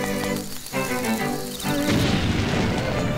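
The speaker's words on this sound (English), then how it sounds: "Maybe I put a bomb there." A bomb in the Link's Awakening game on Nintendo Switch explodes with a loud, close boom that bursts suddenly and trails off in a rumbling, crackling tail, with no talk over it.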